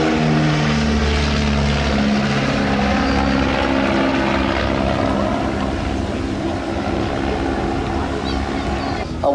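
A vintage De Havilland Dragonfly propeller aeroplane drones steadily and loudly throughout, its engine note holding a continuous rumble with shifting tones as it passes at an air show.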